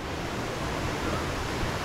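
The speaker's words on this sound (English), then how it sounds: "That's the waterfall." Kathu waterfall in Phuket, Thailand rushes in a steady broadband roar of falling water, close and continuous with no voices.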